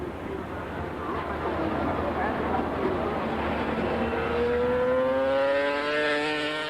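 A 145-horsepower 500cc Grand Prix racing motorcycle of about 100 kilos accelerates at the 1986 Dutch TT, its engine note climbing in rising harmonic sweeps through the last seconds over a steady roar of crowd or track noise, with commentary faintly underneath.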